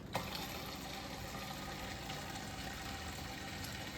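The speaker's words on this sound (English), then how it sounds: "I'm just gonna fill my spray bottle up with distilled water." Distilled water pours steadily into a spray bottle, a continuous, even splashing hiss heard close and alone for the whole stretch, with no speech.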